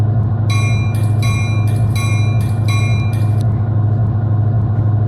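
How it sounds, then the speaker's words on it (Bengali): A train bell in a train simulator game rings in several quick clanging bursts over a loud, steady freight train rumble that continues throughout. "ট্রেনের একটা বেল ছিল"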